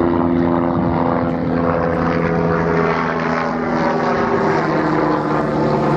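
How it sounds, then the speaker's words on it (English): A helicopter passes low overhead, its loud, steady rotor and engine drone filling the whole stretch with no break or talk. "Helicopter! Do you have to fly over me"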